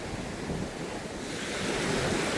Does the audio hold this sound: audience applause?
no